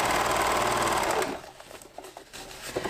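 A sewing machine stitches elastic onto a PUL fabric bowl cover in a fast, loud, continuous whir for just over a second, then stops, leaving soft handling clicks and rustles.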